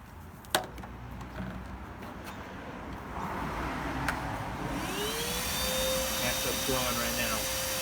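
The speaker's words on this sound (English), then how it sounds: "So if you attach it to the other side, you can actually blow out air from this side instead." A cordless shop vac, its hose moved to the exhaust side so it blows air, runs with a steady motor whine that swells louder and higher partway through, joined by a faint whistling tone.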